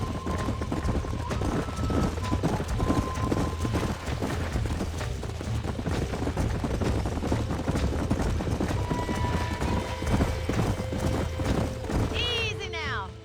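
Horses being ridden at a ranch in the Western video game Red Dead Redemption, with steady clip-clop hoofbeats under game music and ambient noise, ending in a brief whinny.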